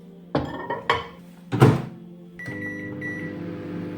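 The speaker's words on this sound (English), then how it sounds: "now I'm going to melt some milk chocolate in the microwave" A microwave oven starts with a few thunks and clicks of the door and buttons, then settles into a steady hum with a beep, as it melts milk chocolate.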